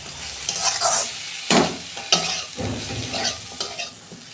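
Cumin powder stirred into hot, sizzling dal in a pan: close, steady frying hiss broken by several sharp scraping strokes of the spoon, with no voices.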